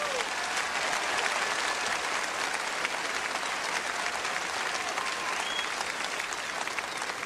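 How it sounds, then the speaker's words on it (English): A studio audience gives a gospel welcome to a performing Indian family, a broad, even roar of applause that holds steady and unbroken at moderate level, without talk over it. "I appreciate that fine applause"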